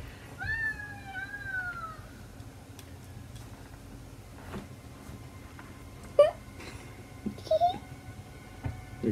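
An old cat character in the Super Mario Odyssey video game lets out a drawn-out wavering meow, followed by a few short clicks and ticking game sounds over a quiet background hum.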